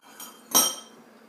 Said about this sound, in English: And then I'm going to stir